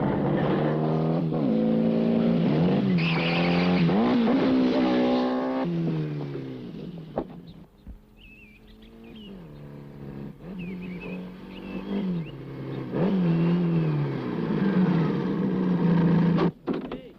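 A car speeds through a chase, engine revving and shifting in loud rising and falling sweeps, with a sharp knock and a brief quieter stretch before the engine surges again and ends with an abrupt thump.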